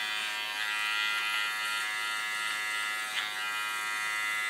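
Electric hair clipper cutting hair, used like a comb while shaping a short zebra-style cut, giving a steady, close, high-pitched buzz that runs without a break and carries no speech.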